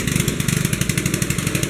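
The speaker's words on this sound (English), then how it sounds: "he's got that lawnmower engine mounted underneath that pulley, and they've got a little head on it that takes the coconut and grinds it out" A small lawnmower engine mounted under a pulley drives a coconut grinder at a street stall during festival time in Pavia, Iloilo, Philippines; close, steady, fast-pulsing putter with no gaps.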